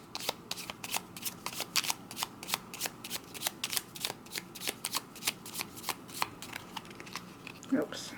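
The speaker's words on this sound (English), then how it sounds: "Give them a good shuffle." Close, dry riffle-shuffling of a Black Hand Lenormand card deck: quick bursts of flicking cards in an uneven, steady rhythm, with a person speaking at times over the shuffling.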